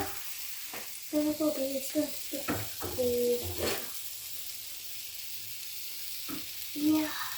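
Bananas frying in a pan of hot oil give a steady, close sizzling hiss, broken by a few short tonal bursts and brief clatters.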